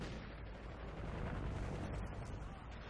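Marksman rifle fire in Call of Duty: Ghosts free-for-all play, a dense, booming burst of gunfire and rumble filling the whole stretch loud and close, with no clear pause.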